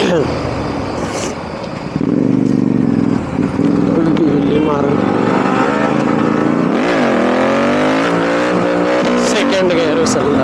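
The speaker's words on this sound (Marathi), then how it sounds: "सेकंड गिअर उचलला म्हणजे हे काय शिफ्ट केला." Motorcycle engine revs and shifts into second gear on a ride near Uran Beach, loud and close with rising engine pitch and a sharp change after a brief dip, wind noise and a voice talking over it.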